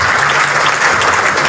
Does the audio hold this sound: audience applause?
yes